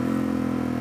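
Motorcycle engine briefly revved by a throttle blip during a downshift, a steady close mid-pitched engine drone lasting under a second with no talk.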